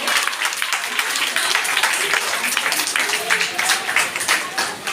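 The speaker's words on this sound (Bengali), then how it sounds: "ত্রিদীপের মা আরেকবার জোরে করতালি হোক।" An audience claps in a dense burst of applause, loud and close, held steady for several seconds with a voice faintly under it.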